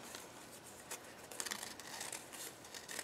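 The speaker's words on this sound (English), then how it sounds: "these scissors are not great for this." Scissors snip repeatedly through a stiff, thin clear acetate sheet, giving crisp irregular cuts at close range with faint background hiss.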